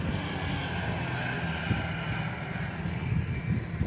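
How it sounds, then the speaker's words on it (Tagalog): Steady wind blows across the microphone beside rural rice paddies in the Philippine countryside, a constant broadband rush with no distinct events and no voices. "Mahangin dito rin, no?"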